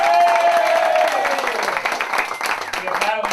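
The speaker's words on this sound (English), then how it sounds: "Big round of applause." An audience at a panel discussion applauds a guest, a dense clatter of clapping under a voice at the start, continuing steadily and slightly thinning toward the end.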